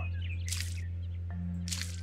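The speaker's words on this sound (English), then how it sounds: "Now I have to water the soil." Watering soil with a watering can in the farming video game Cornucopia makes two short splashy bursts about a second apart over a constant low hum.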